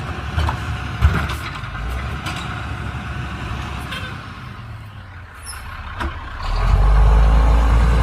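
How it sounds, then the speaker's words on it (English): A garbage truck rumbles nearby outside a garden, with a steady diesel drone that swells louder toward the end, plus a few sharp clanks. "That noise is the garbage truck."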